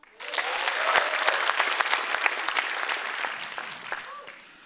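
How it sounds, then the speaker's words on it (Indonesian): A comedy club audience claps, with sharp individual hand claps standing out in the crowd. The applause swells quickly, stays full and lively for several seconds, then tapers off near the end. "Tepuk tangan untuk kalian semua."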